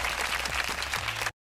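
A burst of crowd applause as a sound effect, dense steady clapping that plays loudly for just over a second and then cuts off abruptly to silence.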